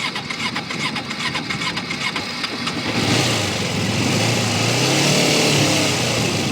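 A motorcycle engine cranks with rapid ticking, then catches and settles into a steady, loud idle with a low throb.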